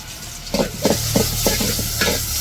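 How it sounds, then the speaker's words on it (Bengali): Onion and garlic frying in oil for tempering dal: a continuous sizzle broken by about six rhythmic stirring scrapes, close and fairly loud. "পেঁয়াজ আর রসুন একটু ভাজা নিতেছে"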